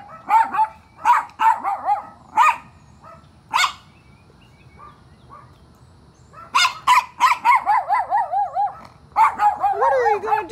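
Several dogs bark in short bursts, some sharp and high, others more yelping, with pauses of quiet between volleys and a faint voice at times.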